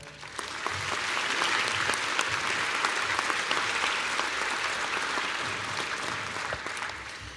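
An audience at a Bond University graduation ceremony applauds in welcome, steady dense clapping from a large crowd that swells within the first second and holds evenly for several seconds, heard from some distance in a reverberant hall.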